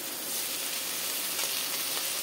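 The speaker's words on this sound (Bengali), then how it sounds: "কেটে রাখা পটলটা দিয়ে দেবো, পটলটা দিয়ে ভাজবো।" Sliced pointed gourd frying in oil in a pan, giving a steady, even sizzle throughout with no talking.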